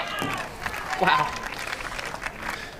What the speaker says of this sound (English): We got some fans here clapping for her